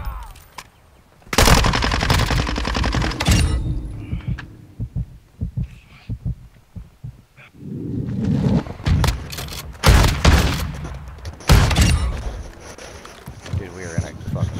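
Gunfire in Modern Warfare 2 gun game mode: loud bursts of automatic fire separated by quieter gaps, with players talking in between.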